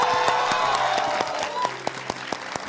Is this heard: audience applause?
yes